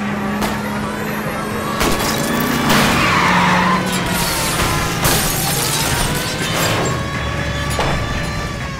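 Tires skid and squeal during a car chase in L.A. Noire, long screeching swells and engine roar with a few sharp impact bangs, loud and continuous throughout.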